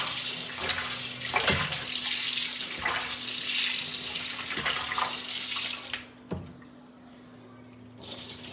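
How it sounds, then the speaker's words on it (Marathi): Steady running tap water splashes as fish intestines are rinsed beneath it, with brief clatters, then the flow cuts off for a moment and resumes. "आता ह्या चांगल्या पाण्याने नळाच्या पाण्याने आता धुवून घेते"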